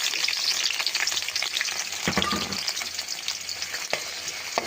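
Chopped onion frying in oil for a bhetki fish dish, a loud continuous close sizzle with crackling pops and a few sharp utensil scrapes.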